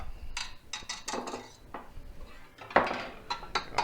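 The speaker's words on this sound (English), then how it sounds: "I'm going to switch the whisk out for the" Metal attachments clank and rattle as a stand mixer's whisk is swapped for a dough hook while making cinnamon rolls, a quick series of close clinks and knocks with no talking.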